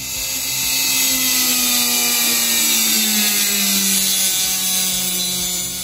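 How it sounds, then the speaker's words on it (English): Multi-tool fitted with a cutting blade grinding into a glass bottle, a loud, harsh, steady high-pitched whine that holds for several seconds, close by with no voices. "I have my multi-tool with a cutting blade, some gloves, and time to get to work."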